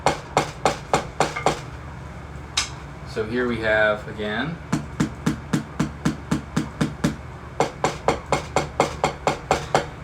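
Drumsticks strike a Prologix practice pad with a harder gum rubber surface, sharp regular taps in quick runs, briefly interrupted by a short spoken phrase in the middle before the tapping resumes.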